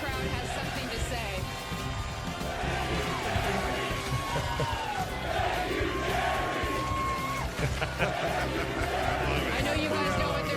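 Football crowd in a stadium chants in unison, a loud, sustained mass of voices with rhythmic rises and falls, with yells and cheers throughout.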